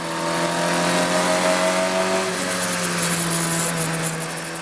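A Formula Ford race car at Snetterton accelerates with a steady, high buzzing engine note whose tone shifts partway through, heard close and sustained without speech.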